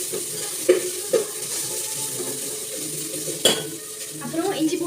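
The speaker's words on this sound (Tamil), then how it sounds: "வெங்காயம் நல்லா ப்ரௌனிஷாக வதங்கினதுக்கப்புறம் இப்படி இஞ்சி பூண்டு பேஸ்ட் கொடுத்துக்கணும்" Ginger garlic paste frying in a pan with browned onions: a soft, steady sizzle broken by a few sharp scrapes and clinks of a spoon stirring against the pan.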